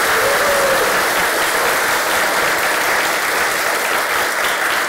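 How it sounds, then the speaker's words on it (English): Sustained applause from a conference audience at a tech talk, dense and even throughout, filling the room with no voices on top. "Why don't you just applaud"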